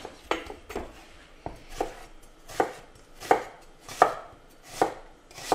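A knife chops onions on a board in a home kitchen, striking in a steady series of about eight crisp, close chops at a relaxed, even pace, with no talk.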